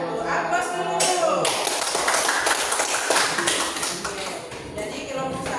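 A classroom group applauding at the close of a group discussion: a few seconds of lively, uneven clapping from several people, with some voices chattering over it.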